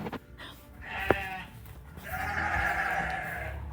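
Sheep bleat inside a farm stall where the flock is being shut in ahead of a storm. One short call comes first, then a longer, wavering bleat at moderate distance over faint background noise.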